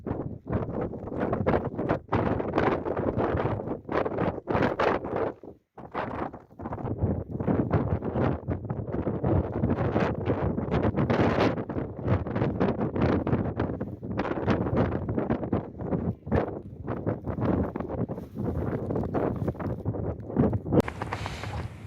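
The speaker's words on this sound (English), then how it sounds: "It's really windy." Strong gusty wind buffets the microphone at the summit of a hillfort in the Scottish Borders at night, a loud continuous roar with rustling flaps and one brief lull.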